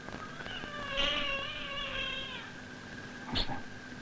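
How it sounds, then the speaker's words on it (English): A cat meows repeatedly outside a door, wanting to be let in, with several drawn-out, wavering cries close by, then a short sharper meow near the end. "He's meowing to be let in."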